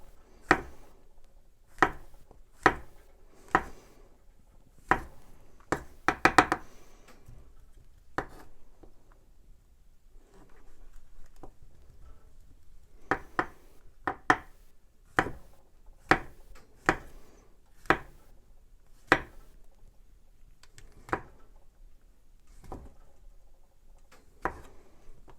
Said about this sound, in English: I'm going to chop up some of the bacon here